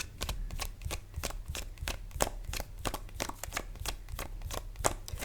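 Tarot cards being shuffled by hand: a quick, quiet run of crisp, rhythmic flicks and taps, alone.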